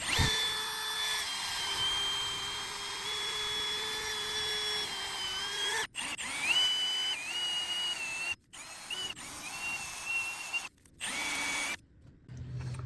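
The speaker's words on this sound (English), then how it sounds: "grab a wire wheel on a drill" A power drill whirs continuously with a gritty wire wheel scraping rust off metal on Mercedes E350 rear brakes, pitch dipping under load, with a few brief pauses before spinning up again.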